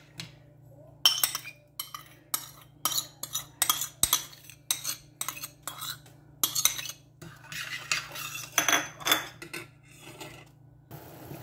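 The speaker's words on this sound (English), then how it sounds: "You keep stirring all the time because it will get burned." Metal utensils stir and scrape wonton sauce with oyster sauce in a cooking pot, giving a steady run of clinks and scrapes in irregular bursts, close and moderately loud, with a low hum underneath.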